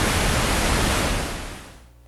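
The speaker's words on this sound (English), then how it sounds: "Okay, here's our pink noise. The filter now is all the way open." Pink noise from a Moog synthesizer passed through a fully open voltage-controlled low-pass filter: a steady, loud, broadband hiss with a full low rumble, holding even, then dulling and fading toward the end.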